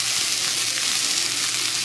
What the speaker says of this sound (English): You want to roll the burger around in your onion juices.